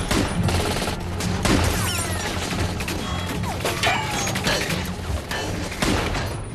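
Gunfire and shattering glass from a shootout scene in the 2013 film Iron Man 3: dense, continuous bursts of shots with sharp crashing glass breaks, loud and busy throughout, with faint voices mixed under the chaos.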